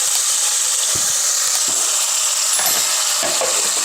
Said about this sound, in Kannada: ಈ ಮಸಾಲೆ ಹಸಿ ವಾಸನೆ ಹೋಗೋ ತನಕ ಒಂಚೂರು ಫ್ರೈ ಮಾಡಿ